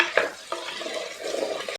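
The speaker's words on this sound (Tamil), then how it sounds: "தக்காளி வந்து நல்லா மசிஞ்சு வர அளவு வதக்கி எடுத்துக்கணும்" Tomatoes and onions with curry leaves are sautéed in a pan, giving a soft continuous sizzle with a few scraping stirs of a spoon, close and fairly quiet.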